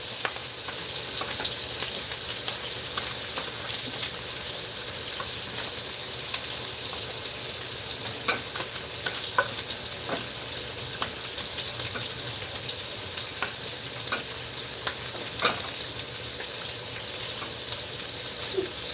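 Sausage fries in a pan with a steady, even sizzle and crackle throughout, marked by occasional sharp pops and light scraping taps, close and alone.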